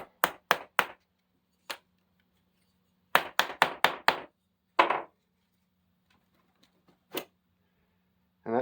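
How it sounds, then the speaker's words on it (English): Sharp, close wooden taps as a painted chair part is knocked down into its hole, coming in quick bursts of three to five knocks with pauses between and a few lone taps. "Tap it down."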